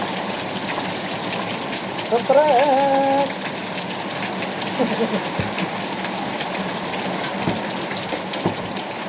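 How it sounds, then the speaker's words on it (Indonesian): Heavy rain falls steadily on a boat's stern during an afternoon fishing trip at sea, a dense continuous hiss throughout with a brief whistling tone and someone speaking over it. "Hujan deras."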